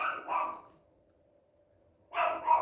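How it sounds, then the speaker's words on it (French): A dog barks twice in quick succession, then goes quiet apart from a low hum, before two more sharp barks close by. "mon chien n'arrête pas d'aboyer"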